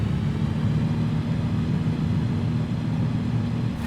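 In a flight simulator, the engine of a RANS S6S light aircraft runs at 3000 RPM as a loud, steady droning hum with a constant low rumble and no change in pitch.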